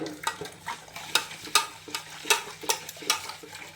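A hand mixes a wet batter of white oil, egg, sugar, salt and flour, making about a dozen rhythmic squelching slaps and sloshes, close and fairly loud over a quiet background.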